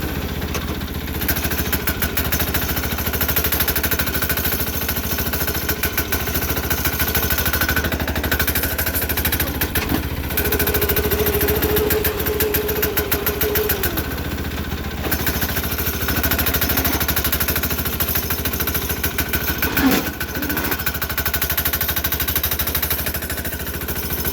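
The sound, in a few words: Sears Suburban 6HP diesel engine running, being broken in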